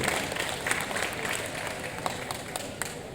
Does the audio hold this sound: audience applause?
yes